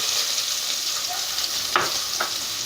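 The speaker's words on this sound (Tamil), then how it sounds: "அடுத்தது வெங்காயத்தை போட்டுடலாம்." Onions tossed into a hot pan for vegetable noodles, a steady loud sizzle of frying throughout with a couple of brief stirring scrapes near the end, close up with no voices.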